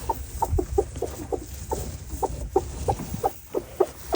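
A brooding hen sitting on a clutch of eggs clucks in a quick, uneven series of short, close, fairly loud calls over low background rustle.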